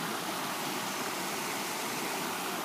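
Lake Ngakoro waterfall at Waiotapu pours in a steady, loud, unbroken rush of falling water, heard close and alone.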